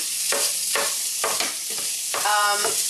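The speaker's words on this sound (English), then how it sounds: "we're just going to let this cook maybe for about 3 minutes until it gets a little crispy. And I like to break the tofu up just a little bit more." Tofu fries loudly in a hot pan while a utensil breaks it up, with bright continuous sizzling punctuated by repeated scraping stirs every half second or so.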